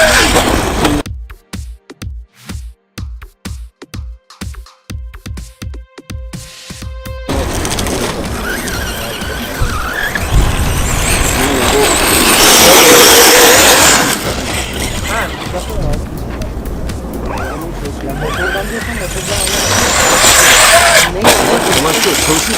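Electric Losi 3.0 1/8 scale RC buggy driving and practicing jumps, with a broad loud motor and tyre rush that swells and fades over many seconds after a stretch of sharp clicking taps; speech is faintly present.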